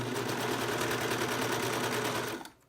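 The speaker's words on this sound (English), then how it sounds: "I'm just gonna start serging with that 3/8 inch seam allowance, which means that some is gonna get cut off" A serger stitching a 3/8 inch seam on tights fabric, trimming the edge as it runs, a close steady fast mechanical whir for over two seconds before stopping abruptly, with no talk.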